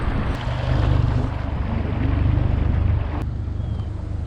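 A small boat motor runs on the Grand River in Michigan, a strong current flowing a half mile below a dam, with a steady low drone mixed with wind buffeting and water noise throughout.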